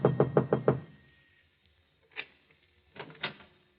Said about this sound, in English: and knocks on the door